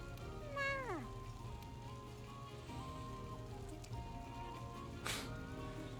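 A cat meows in Monster Hunter World: Iceborne, one drawn-out, falling meow near the start over steady game music and ambience, with faint rain-like texture in the background.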